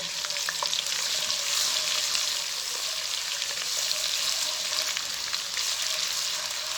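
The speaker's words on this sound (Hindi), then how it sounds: "घी गर्म हो गया। अब हम लहसुन अदरक का पेस्ट डालेंगे।" Garlic ginger paste fries in hot ghee in a pan for white chicken korma, giving a steady, close crackling sizzle with occasional sharper pops and stirring scrapes, and no voices.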